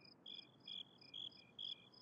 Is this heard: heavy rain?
no